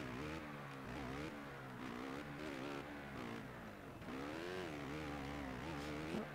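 A motocross bike in the MXGP video game revs hard and accelerates, its engine note sweeping up and down in a steady, loud drone through the whole stretch.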